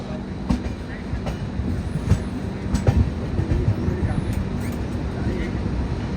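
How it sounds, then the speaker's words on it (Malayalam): Another train passes at Katni Junction, a WAG-9 electric locomotive, with a steady rumble of wheels and faint rhythmic clicks under a quiet background, all heard from on board a moving train. "ഇങ്ങനെ വേറൊരു ട്രെയിൻ വരുന്നുണ്ട്."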